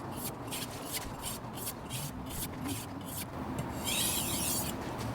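A kitchen knife is stroked across a whetstone, one pass per side, giving repeated soft rasping rubs in a steady rhythm, close and moderately loud, with a brighter gritty scrape toward the end.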